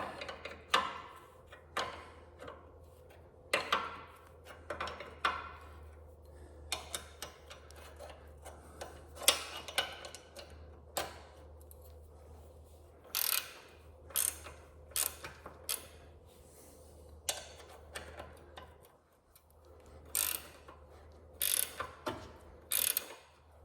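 A wrench works an 11/16 nut on a 1948 Schwinn Cadillac bicycle, giving repeated ratcheting clicks and metallic ticks in bursts over a steady low hum, close and fairly quiet, with no talking.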